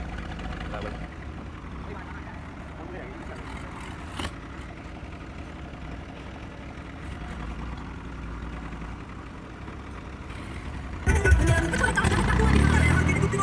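A farm tractor, either a New Holland 3630 or a Sonalika, idles with a low, steady engine rumble, a voice talking over it, and a louder surge of noise near the end.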